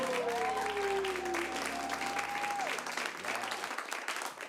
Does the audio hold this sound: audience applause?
yes